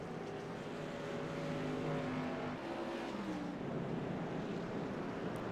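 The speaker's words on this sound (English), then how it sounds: "There you see Williams coming down pit road." An SK Modified race car runs along pit road at a short track, a moderate engine drone that shifts pitch as it passes, with steady crowd and track noise behind it.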